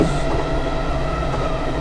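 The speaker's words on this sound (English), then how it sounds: "I was expecting a diesel train to show up, but it was an electric train" Electric train rolling along rail in JR East Train Simulator, a steady loud rumble of wheels and motor with a faint high whine, no talking.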